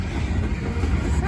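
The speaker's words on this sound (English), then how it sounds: "That is a big train." A long freight train rumbles past nearby with a low, steady roar and faint rail rattling, a loud continuous wash of sound.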